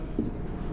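Chalk or marker writing on a board during a maths lesson, a brief faint scratchy stroke over a quiet room.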